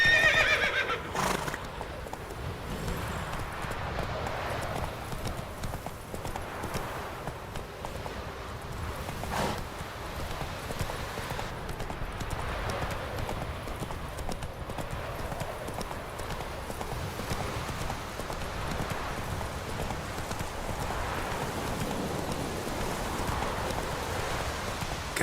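Roach, a horse in the video game The Witcher 3, trots with steady clip-clop hoofbeats and neighs now and then, the whinnies rising above the hooves against a soft rain-like wash.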